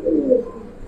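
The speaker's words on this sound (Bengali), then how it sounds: "দুইটা কবুতর দেখেন মাশাআল্লাহ অনেক সুন্দর" Giribaz pigeons cooing, a single short, low, throaty coo close by, lasting under a second.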